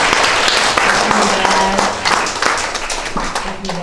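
A gathering at a Korean-Chinese art exhibition opening ceremony gives a round of dense, close hand clapping that continues steadily and tapers slightly near the end, with a faint voice underneath.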